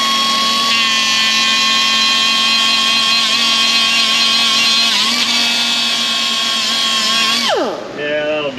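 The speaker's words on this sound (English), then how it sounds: "hit this with the little polishing wheel and grind this flat" A small polishing wheel grinds an exhaust stud flat on an Infiniti FX35 3.5, a loud, steady high-pitched whine close by that winds down abruptly near the end.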